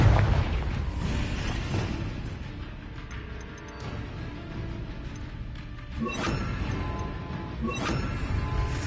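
A Confringo blasting spell explodes in a video game, producing a loud, deep boom that opens the passage, followed by rumbling blasts and a few crashing impacts.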